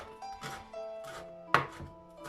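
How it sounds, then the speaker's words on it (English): A knife chopping parsley on a board, a few distinct soft thunks spaced unevenly over a quiet background with a faint tonal hum. "I will chop my parsley"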